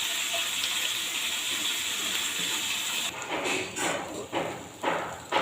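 Water pours steadily into a mix of onion paste, turmeric, chilli powder, salt and raw oil for a fish curry, a continuous close splashing that gives way to softer stirring sounds.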